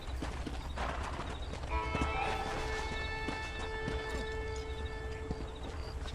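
Horse hooves clip-clopping at pace in the western video game Red Dead Redemption, a steady rhythmic beat over continuous game music and ambience, fairly close and moderately loud.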